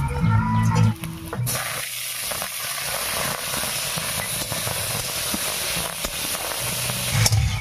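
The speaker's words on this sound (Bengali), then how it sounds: "ফোড়নটা ভাজা হয়ে গেছে, এবারে টমেটো দেবো।" Tomatoes go into hot mustard-oil tempering of dry chilli, five-spice and ginger in a wok, bursting into a loud sizzle that settles into a steady, close steamy hiss with occasional crackles.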